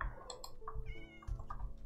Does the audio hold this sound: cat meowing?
yes